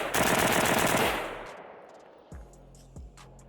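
Pioneer Arms 556 sporter underfolder AK rifle firing a rapid, loud, close burst for about a second, followed by fading echo and two soft metallic clacks.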